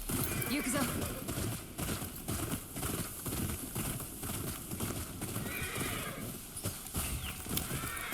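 A horse in the video game Ghost of Yotei clip-clops along with steady hoofbeats and gives repeated whinnies, all under a continuous wash of game ambience and music.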